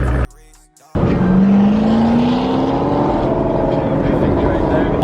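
Ford SVT Cobra V8 engine running with a deep, beefy exhaust note, loud and steady after a brief quiet moment, with a rising rev partway through and voices talking over it.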